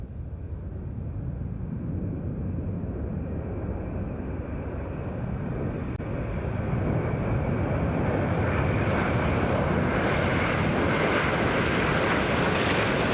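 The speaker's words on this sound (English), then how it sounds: "the RAF's very latest aircraft, the Wedgetail AEW.1," A Boeing Wedgetail AEW.1 flying at an air display gives a steady, loud jet-engine roar with broad rushing noise that builds slightly over about thirteen seconds, with some wind buffeting and no talk.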